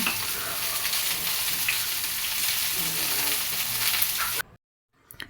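Ridge gourd stir-fried in a pan for chutney produces a continuous close sizzle with light stirring scrapes, then stops abruptly into near silence before a faint sound at the end.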